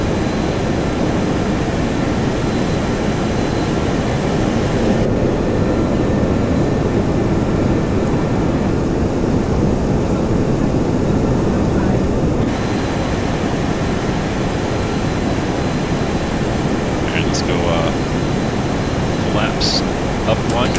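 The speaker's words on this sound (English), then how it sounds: "V1, rotate. Rotating. Alright, positive rate," FlyJSim 732 airliner taking off in X-Plane 11, a loud steady jet engine roar filling the cabin throughout, with a brief shift in tone partway and a few faint clicks near the end.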